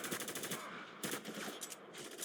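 Rapid bursts of automatic gunfire fill the final stage of the war shooter Spec Ops The Line, a dense, continuous clatter with brief breaks, played fairly quietly.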